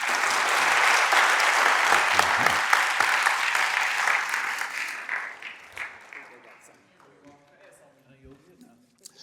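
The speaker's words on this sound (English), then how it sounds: "me a round of applause." Loud applause from the audience at a Black History presentation at Morehouse fills the room, then gradually fades over several seconds into scattered claps and voices talking.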